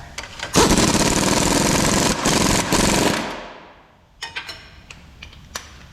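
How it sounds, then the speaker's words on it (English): An electric impact wrench hammers on the lower rear shock bolt of a 2007-2018 Jeep Wrangler in one loud rattling burst of about three seconds that winds down, followed by a few faint clicks and knocks. "we will just rip the lower bolt on with an impact"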